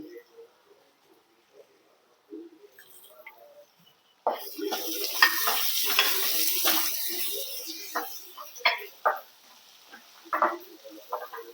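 Green chilies dropped into hot oil with onions in a pan while making palak paneer: after a quiet start, a sudden sizzle breaks out and continues as a steady hiss, with a person talking over it.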